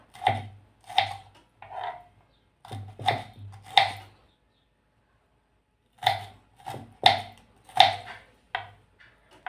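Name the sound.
chopping spiny gourd (kartoli) into small pieces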